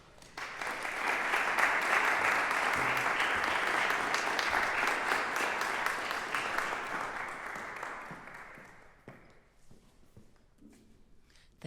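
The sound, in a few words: audience applause welcoming David Peter Coppin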